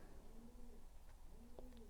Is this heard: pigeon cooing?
yes